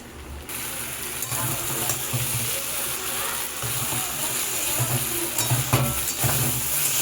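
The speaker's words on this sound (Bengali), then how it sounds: "ধনেপাতা দিয়ে চচ্চড়িটাকে বেশ ভালোভাবে মিশিয়ে দিলাম।" A Bengali chorchori of small morola fish and vegetables fries in a pan while being stirred with chopped coriander, giving a constant sizzling hiss with soft rhythmic scraping and a low hum underneath.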